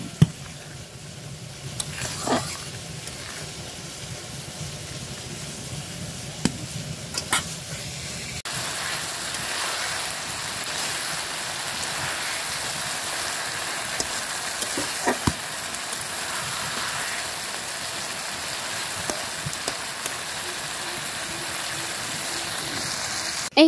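Food fries in a pan at home with a steady crackling sizzle that grows fuller partway through. Scattered scrapes and clicks of stirring break through the hiss at mid distance.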